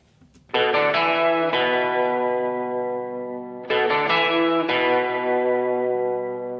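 High, mid and low electric guitar parts stacked together in a pop country arrangement, a dense chorused wall of chords struck in quick bursts, then sustained and fading, repeated in two phrases.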